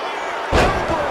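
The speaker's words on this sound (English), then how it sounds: "Very measured elbow drop. Boom, what an elbow." An elbow drop lands in WWE 2K25 wrestling as a single loud slam thud, sharp and close, over a steady background of crowd noise and game ambience.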